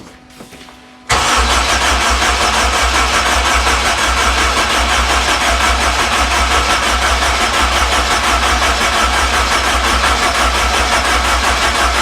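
A K20 engine swapped into a Toyota MR2 MK3 fires up for the first time: a short cranking sound, then an abrupt catch into a loud, steady idle that runs on evenly.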